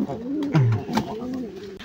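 A male pigeon coos while nesting, giving a few soft, low, throaty coos close by, with rustling and other faint pigeon sounds around it.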